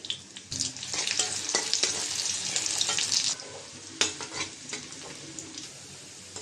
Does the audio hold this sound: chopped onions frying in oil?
yes